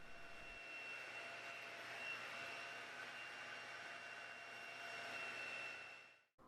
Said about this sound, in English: So I am using my blow dryer on the hot setting